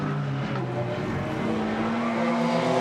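A Chevrolet Camaro GT4 race car at Misano circuit holds a steady, droning engine note with sustained tonal harmonics throughout, loud and continuous with no voices.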